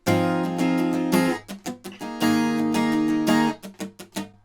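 Strummed acoustic guitar chords ring out in a steady pattern, broken by bursts of quick, choppy muted strokes before the full chords return.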